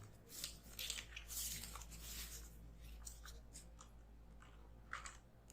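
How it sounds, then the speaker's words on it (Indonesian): The package of a mechanical gaming keyboard is opened by hand, giving off close, quiet bursts of crinkling, rustling and scraping from the packaging, with no speech. "Dan setelah itu baru kita buka keyboardnya."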